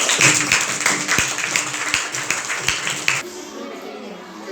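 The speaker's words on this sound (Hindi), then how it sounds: "हाँ, ताली, क्लैपिंग" Classroom applause after a math quiz winner is called up, a burst of scattered hand claps from a group of children that stops abruptly partway through, with a quieter room afterward.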